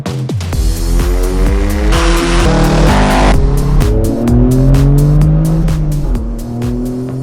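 Engine revving hard on a dyno during tuning of a GR Corolla or Subaru WRX, a loud sustained roar with rising and falling pitch sweeps and sharp gear-like steps throughout.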